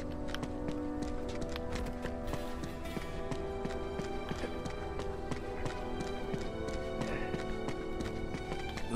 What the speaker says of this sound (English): Now all we need is a horse.